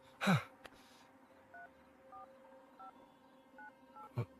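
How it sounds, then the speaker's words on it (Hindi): Keypad tones from a phone being dialed, about six short paired beeps spaced irregularly, clear and close, following a brief loud thump and ending with another knock, in a scene from a Hindi-dubbed film. "यार तू फोन लगाएगा ठीक है प्लीज?"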